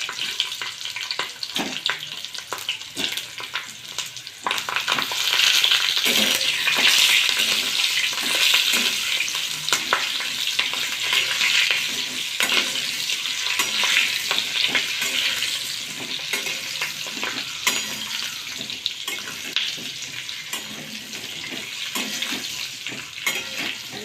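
Bell peppers sauté in a pan for stuffed dhobli mirchi, a steady sizzle broken by frequent scraping stirs and clatters of a spatula, close and fairly loud, no speech.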